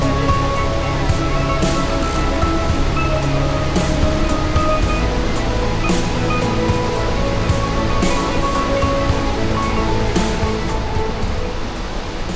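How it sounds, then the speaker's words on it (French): A large waterfall at the end of a trek near the Batad rice terraces in the Philippines roars in a steady, loud, unbroken wash of noise with no voices. "Plutôt pas mal cette cascade."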